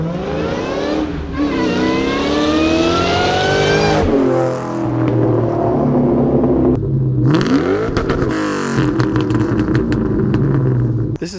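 A 2004 Ford Mustang SVT Cobra 'Terminator' with a 4.6-liter dual overhead cam supercharged V8 revs hard, its pitch sweeping upward in repeated loud pulls that break off and rise again.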